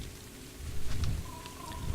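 Steady rain hisses softly in the ARK Survival Evolved video game, a faint, even wash of drops with low rumbling swells in the background.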